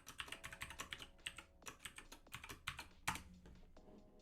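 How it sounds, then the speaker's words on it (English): Someone types a password on a computer keyboard in a quick, irregular run of clicky keystrokes, with one harder key strike near the end. No one speaks. "now I've got to type in this bizarre password"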